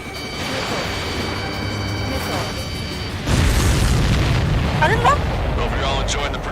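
Missile strikes blowing up supply ships in the game Ace Combat 7, a heavy booming explosion bursting in loudly mid-clip and rumbling on, with steady engine drone and radio talk beneath.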